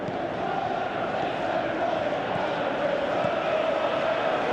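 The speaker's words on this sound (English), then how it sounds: "you can feel and hear how the crowd are reacting to all of this" A large stadium crowd in a football video game roars steadily, a continuous dense wall of crowd noise with a faint chant-like tone, loud and sustained with no pauses.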